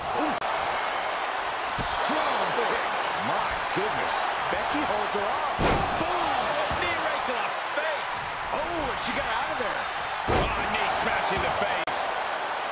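Heavy thuds and slams from a WWE 2K24 wrestling video game match as a wrestler is thrown down, landing under continuous play-by-play commentary and steady crowd noise.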